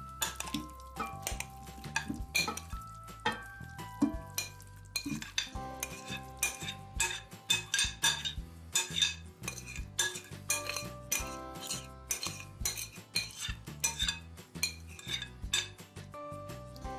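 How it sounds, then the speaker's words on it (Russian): Potatoes with meat are tipped into a roasting pan that already holds a little water, giving repeated clinks and knocks of food and utensil against metal. Soft background music plays underneath. "Выкладываю картофель с мясом."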